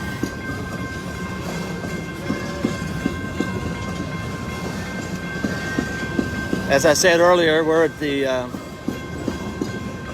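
Norfolk Southern locomotive 4422 runs at the Paducah and Louisville Railway's West Yard in Madisonville, Kentucky, with a steady engine rumble and rolling clatter, then a loud horn blast partway through, while someone talks over it.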